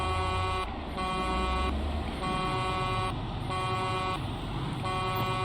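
Repeated car horn honking in the zombie survival game Project Zomboid, loud sustained blasts broken by short regular gaps over engine rumble.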